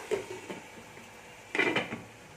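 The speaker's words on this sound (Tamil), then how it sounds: "நல்லா கலந்து விட்டுட்டு இது ஒரு ஒரு நிமிஷம் மூடி வச்சிடலாம்" A utensil clinks and scrapes in a pan while egg moily is stirred, then a lid clatters on: a few sharp metallic knocks near the start and a louder clatter near the end, with quiet between.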